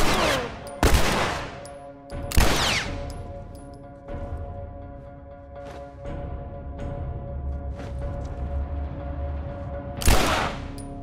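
Sharp bursts of gunfire in the video game The Last of Us crack out in scattered volleys over a steady electronic hum and background effects, with louder shots at intervals.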